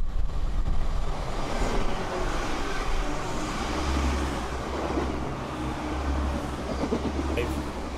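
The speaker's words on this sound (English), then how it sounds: "Passing through platform 1 at Eaglescliffe is 1 Papar 74, Transpennine Express Class 185." A TransPennine Express Class 185 diesel unit passes through platform 1 at Eaglescliffe station, a loud, continuous rumble and rush of wheels and engine throughout, with no break in the noise.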